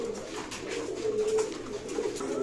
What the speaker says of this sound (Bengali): আপনার বিভিন্ন প্রকার কবুতর দেখতে পাচ্ছেন